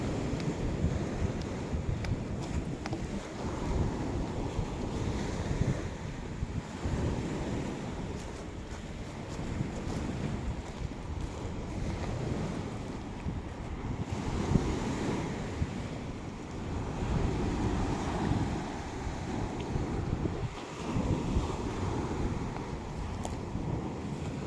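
Sea waves washing over rocks along a shore, a sustained rushing wash that swells and recedes in slow surges, heavily mixed with wind buffeting the microphone.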